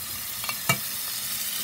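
Tomatoes sautéing in a pan for vadacurry, a faint soft sizzle with a couple of brief stirring scrapes.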